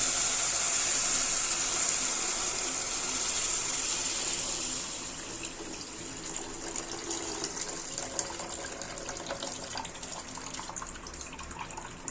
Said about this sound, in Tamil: இப்போ கரைச்சி வச்சுருக்க இந்த புளி தண்ணியை வந்து நம்ம சேர்த்துக்க போகிறோம்